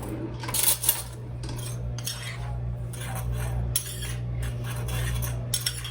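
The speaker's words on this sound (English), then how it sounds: "And then I have 2 tablespoons of cinnamon and 1/3 of a cup of sugar. Just gonna mix that all together." A utensil mixes cinnamon and sugar in a bowl, making repeated close clinks and scrapes in irregular strokes over a low steady hum.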